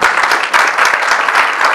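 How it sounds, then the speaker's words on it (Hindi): Steady applause from a church congregation during a Sunday sermon, dense overlapping claps that fill the room continuously at a strong level. "जोरदार तालियां बजा दे"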